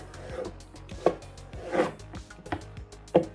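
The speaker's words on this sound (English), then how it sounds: "This zucchini. Just gonna cut it in dices." Knife dicing zucchini on a cutting board for a keto chicken dish, several distinct chops spaced irregularly at close range, with no talk.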